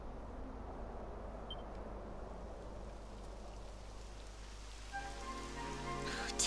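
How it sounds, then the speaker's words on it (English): Steady rain hisses down in Dragon Quest XI, a dense, even patter that runs throughout, with brighter tonal game sounds entering near the end. "It would have to go and start raining, wouldn't it?"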